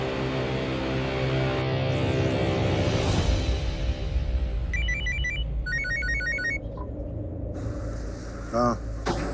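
A phone ringtone chirps in short repeated bursts over a low engine hum and background noise, fairly close.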